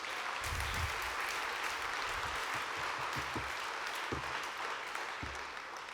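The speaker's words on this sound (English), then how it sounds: "Please, another round of applause for Brian Westbrook." Luncheon keynote audience applauding Brian Westbrook, a steady wash of clapping from a room full of people that holds evenly throughout, with a few low thumps under it and no speech over it.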